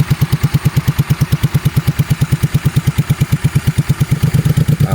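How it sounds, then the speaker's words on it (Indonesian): A motorcycle engine idles just after being started, warming up at a campsite: a loud, close, rapid and regular thumping putter with a slight rise at the end, no voices over it. "Ini saya panasin dulu biar oli-olinya ngalir semua ke komponen-komponen mesinnya nih."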